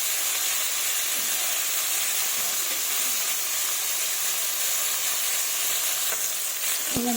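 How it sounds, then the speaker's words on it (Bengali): Baila, puti and koi fish fry in hot oil, a continuous close crackling sizzle with faint bubbling and a brief utensil clink near the end, no voices. "এই মাছগুলোকে এখন আমি ভেজে নেব।"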